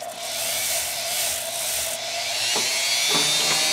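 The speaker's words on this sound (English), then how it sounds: "And my Dremel tool to make a mark." Dremel rotary tool marking cosplay foam armor to create rivet details, a steady high whine grinding continuously with a few brief catches near the end, close and fairly loud.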